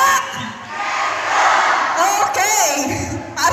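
A crowd at a provincial athletic meet cheers and shouts loudly in a swelling roar with whoops, close and energetic, with voices raised over it.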